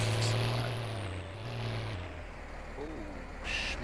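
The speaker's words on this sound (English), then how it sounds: "And we'll get the empty tractor on the go." A tractor engine in Farming Simulator drones steadily with a low tonal hum that drops in pitch partway through, close and continuous, with brief faint voice-like sounds near the end.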